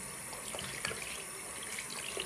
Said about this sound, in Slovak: A teraz si to opláchnem.